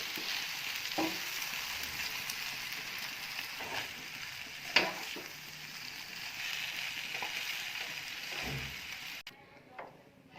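A spoon stirs chicken tikka vegetable macaroni in a pan, giving soft scraping and clacking strokes over a faint sizzle, moderately quiet, ending abruptly near the close.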